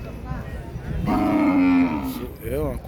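A deep, drawn-out bull bellow rises mid-clip over a noisy crowd at an outdoor Saturday bull market in Pebbair, followed by a shorter second call.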